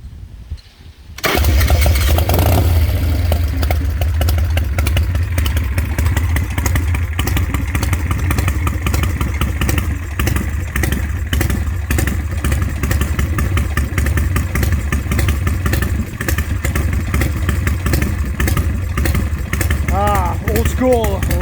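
A 1978 Harley-Davidson Super Glide with a 96-inch big-bore V-twin, dual-plug heads and a 560 cam fires up after a brief quiet moment, then settles into a loud, close, lumpy, uneven idle that runs steadily throughout, with some talk faintly underneath.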